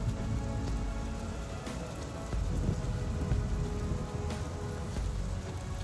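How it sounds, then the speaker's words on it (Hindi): Heavy rain pours down steadily in a forest during a storm, a dense, loud wash of drops with faint low rumbles of thunder beneath, continuous and unbroken throughout. "तेज बारिश और आंधी में वो जंगल में ही फंस जाता है।"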